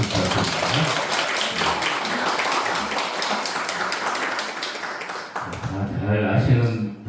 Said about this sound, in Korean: 일단 한번 박수 한번 부탁드립니다.